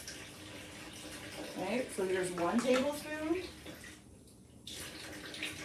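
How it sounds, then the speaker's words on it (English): A kitchen faucet runs water at a steady low hiss beneath a voice as she talks through measuring ingredients for gingerbread cookies. "I could get my faucet to come on."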